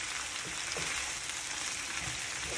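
Sliced ampalaya frying in a pan, a steady close sizzle with faint scraping stirs underneath, no voices.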